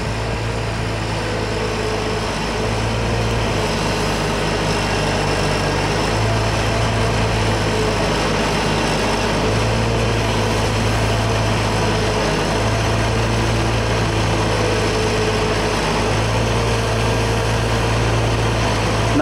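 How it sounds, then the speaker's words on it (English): Loud, steady engine drone of a 1939 tractor running continuously while its boom raises the machine up and down off the ground, a low hum holding even with slight fluctuations throughout. "Here we're going to raise the machine up and down off the ground again using the boom"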